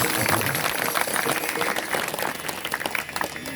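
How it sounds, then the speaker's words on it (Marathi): A kirtan audience claps loudly and continuously, a dense, close wash of many hands that fades slightly toward the end. "समर्थ धोंडू तात्या यांना जोरात टाळी वाजून कोटी कोटी प्रवाह"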